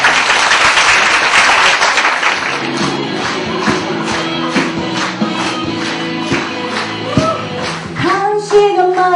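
Audience applause fills a Korean-language speech contest for international students, with steady dense clapping that later thins into scattered claps while some tonal music or voices come in near the end.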